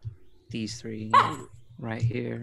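A voice imitates a laser corgi's bark during a tabletop role-playing game, with a few short, yelping bursts run together with spoken words, close and fairly loud.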